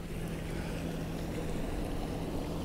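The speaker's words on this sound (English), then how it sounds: "maneuvering this boat around." A Broom 42 motor cruiser's engine hums steadily on the River Shannon beneath broad rushing water and wind noise, a constant low drone with no pauses.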